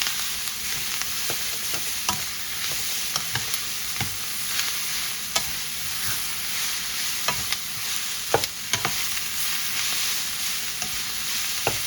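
Shrimp, noodles and vegetables stir-fried in a pan, giving a steady close sizzle broken by frequent scraping and tossing clatters of the utensil against the pan, with no voices.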